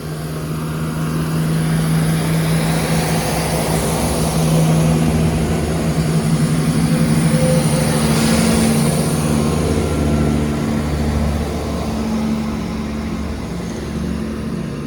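A Class 170 diesel multiple unit passes through Aviemore station on the Highland Main Line, a sustained engine drone and rumble that swells and fades over several seconds.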